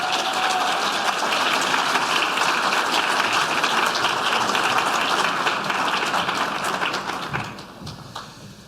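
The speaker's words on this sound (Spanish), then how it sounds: "Recibamos con un gran aplauso a Gonzalo Blumel." A seminar audience gives sustained applause welcoming a speaker, a dense wash of clapping that holds steady for several seconds, then thins and fades toward the end.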